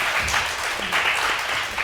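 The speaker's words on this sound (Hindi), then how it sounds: "ताली होनी चाहिए जी हमारे छोटे से मेहमान के लिए" A studio audience at a Ramzan special television show gives applause for a young guest, dense continuous clapping filling the room at close range for a brief burst.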